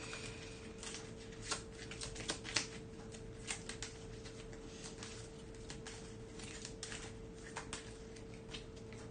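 Playing cards shuffled at a tabletop game of Super Fantasy Brawl, heard as a string of soft, close riffling bursts and light taps over a steady low hum, with no talking.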